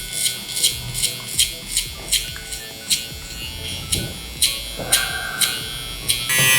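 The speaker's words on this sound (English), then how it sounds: "The trimmer, I'm just gonna flick up really quick." An electric hair trimmer buzzes in quick repeated flicks during a mullet haircut, short bursts recurring about twice a second, close and fairly loud.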